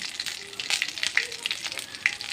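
A bay leaf, cinnamon, clove and cardamom crackle in hot oil, a close, busy sizzle broken by quick pops and spits throughout.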